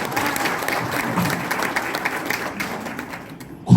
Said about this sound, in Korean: 선배님들 결단과 결의에 뜨거운 박수를 보냅니다.